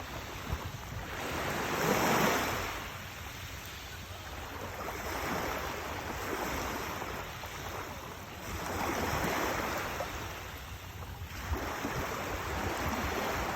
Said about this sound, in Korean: 파도 소리 좋다.